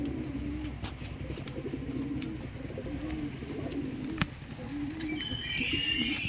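Pigeons coo steadily in a loft cage of a pigeon dealer's loft, a continuous low warbling layered from several birds at close range, with a brief knock partway through and faint higher chirps near the end.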